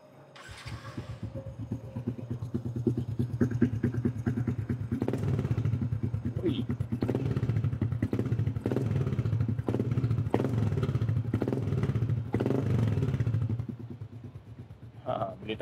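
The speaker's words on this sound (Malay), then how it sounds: "aku pakai exhaust daripada Espada. Yang ni exhaust ni so far aku puas hati. Silencer tak pasang, dia punya bunyi pun kuat juga geng." A kapcai underbone motorcycle, an LCV8 fitted with an Espada exhaust and no silencer, starts and revs loudly in repeated throttle blips with a raspy, rattling note, then drops back toward a quieter idle.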